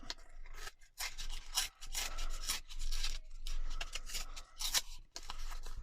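Paper tag being torn along its seams for a junk journal, with a series of close, rasping rips and rustles in short bursts separated by brief pauses.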